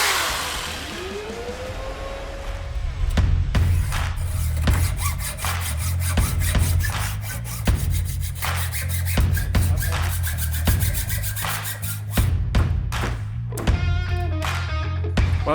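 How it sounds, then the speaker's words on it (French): A hand saw rasps through wood on a tabletop in a continuous run of close, gritty back-and-forth strokes, with a low hum running underneath. "on a bien galéré à la scie à main qui est juste posée sur la table"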